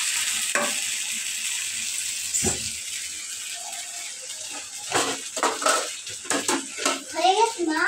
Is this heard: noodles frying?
yes